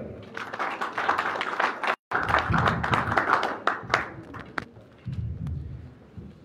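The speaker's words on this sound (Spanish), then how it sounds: "Fuerte las palmas para él" Applause greets a speaker at an international seminar on the Diablada of Puno, an uneven burst of hand clapping from a modest audience that breaks off briefly, resumes and then trails into a few scattered claps.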